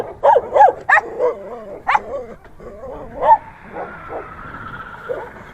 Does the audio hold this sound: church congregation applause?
no